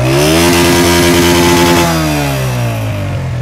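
The engine of a restored 2013 Honda motorcycle revs hard up close during a sound check. The pitch climbs, then drops as the throttle closes, ending in a lower idle-like rumble.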